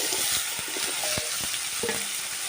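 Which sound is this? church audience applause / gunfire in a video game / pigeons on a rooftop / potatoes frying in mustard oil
potatoes frying in mustard oil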